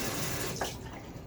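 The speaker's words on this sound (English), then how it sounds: "So, time for a little bit more water on my face" Water runs steadily from a bathroom tap into a sink as the face is wetted before a shave, a continuous close hiss with a brief splash partway through.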